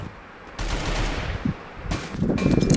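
Rapid bursts of automatic gunfire and loud shots in a first-person shooter video game, dense and crackling, heard close with no talking.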